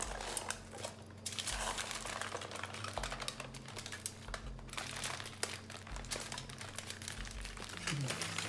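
Foil paper crinkles and crackles in quick, close bursts as a Swiss roll is rolled up in it, a steady rustling texture with a low background hum.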